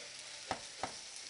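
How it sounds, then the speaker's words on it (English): Faint, steady sizzling of beef topside frying in oil, broken by two quick clinks of stirring. "Just frying it all up."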